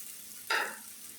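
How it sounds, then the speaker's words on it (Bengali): Small monsoon fish and onion fry with potato and pointed gourd in a pan, giving one sudden close sizzle-and-stir burst that fades into a low steady hiss. "এখন মাছ আর পেঁয়াজ দিয়ে ভালোভাবে ভেজে নিব।"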